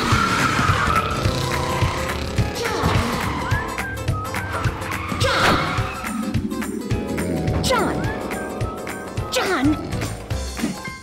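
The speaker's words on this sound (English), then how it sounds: "racers, start your engines." Race cars roar past with rising and falling engine notes, screeching skidding tires and sharp squeals, loud and busy throughout.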